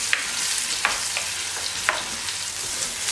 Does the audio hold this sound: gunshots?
no